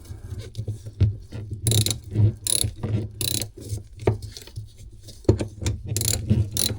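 Ratchet wrench working on a Volvo Penta MD21A marine diesel engine aboard a boat, giving repeated bursts of close mechanical clicking and rattling in uneven rhythm, with short pauses between strokes and no talking.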